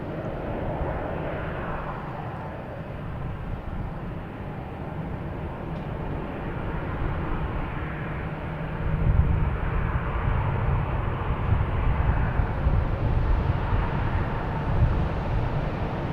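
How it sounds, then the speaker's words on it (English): An Air Canada Embraer E175 jet takes off at Boston Logan Airport, a steady broad engine roar that swells and grows louder halfway through as it climbs out, with no talking. "we have Air Canada taking off, heading to Montreal. E175, flight"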